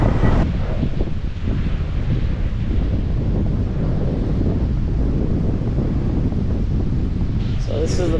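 Strong wind buffeting the microphone on a rough day at a South Florida beach with whitecap waves, a constant loud roar with surf mixed beneath, close and unbroken.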